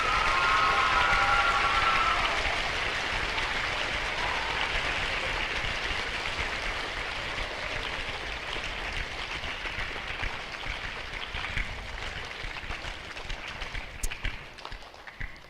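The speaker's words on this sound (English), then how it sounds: "can we do a round of applause?" Children and adults in an audience at a Veterans Day program break into sustained applause, a dense wash of clapping that starts loud and slowly thins out over about fifteen seconds.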